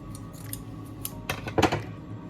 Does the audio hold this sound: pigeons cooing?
no